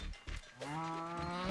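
A cow lowing in the video game Moving Out 2, a single drawn-out moo heard up close after a few soft thumps.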